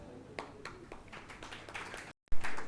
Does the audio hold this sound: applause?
yes